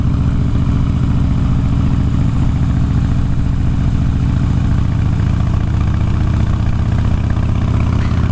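A motorcycle engine idles steadily on the way to the pub, a loud, close, even low rumble with a constant throb and no talk.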